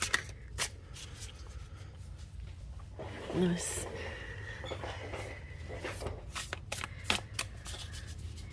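Cards riffle and shuffle in bursts of crisp flapping clicks, close by, with a brief spoken remark partway through.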